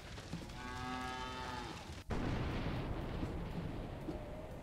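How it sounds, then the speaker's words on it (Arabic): A cow in a video game lets out a long, drawn-out moo, followed by a sharp blast and continuing rumbling game noise. "من وين جاء البقر هذا؟"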